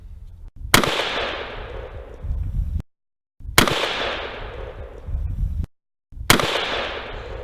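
Three loud close gunshot blasts fired at an armoured Nissan NP200 pickup with a slug gun and assault rifles, each a sharp crack with a long ringing tail, evenly spaced about two and a half seconds apart.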